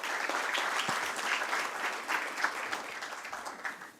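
Audience applause at a stock exchange listing ceremony for Niva Bupa Health Insurance, a dense, steady round of clapping from a crowded hall that carries on for several seconds.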